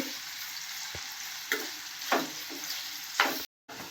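Paneer fries in a pan for cashew paneer curry with a constant close sizzle, broken by a few scraping stirs and a brief drop to silence near the end; no one speaks.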